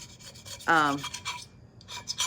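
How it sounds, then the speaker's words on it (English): A compact Dremel rotary tool scraping around a tumbler, a harsh rasping grind that rises briefly and then fades into lighter scratchy contact, close and with no talk. "I'll just kind of scrape back around and see if I've missed any"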